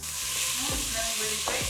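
Beans with carrots and celery stirred in a pot using a wooden spoon, a brief close sizzle with two scraping sweeps of the spoon, loud and continuous, no voices.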